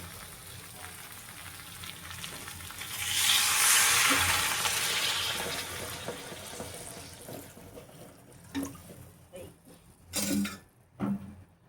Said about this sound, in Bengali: এবার আমি দেবো জল।